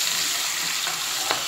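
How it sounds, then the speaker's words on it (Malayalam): Onion, garlic, curry leaves, tomato and crushed cloves, cardamom and cinnamon sauté in a pan for a Kerala jackfruit seed curry, a close, steady sizzle with a couple of brief stirring scrapes. "തക്കാളി അരിഞ്ഞു വെച്ചിരിക്കുന്നത്, പിന്നെ നമ്മൾ ആ ഇടിച്ചു വെച്ചിരിക്കുന്ന ഗ്രാമ്പു ഏലയ്ക്ക കറുവ അങ്ങനെ സാധനങ്ങളെയൊക്കെ നന്നായിട്ട് വഴറ്റുക"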